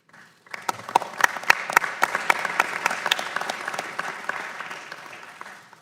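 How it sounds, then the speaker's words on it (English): Applause breaks out after testimony at a congressional committee hearing on the anti-doping system: a small group claps sharply, the scattered claps thicken, then slowly fade. "We rarely have applause after testimony"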